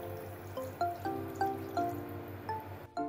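A cup of water poured into a pot for tteokbokki sauce, heard as a run of bright ringing plinks and splashes with rising tones, close and fairly quiet, ending in a short clatter.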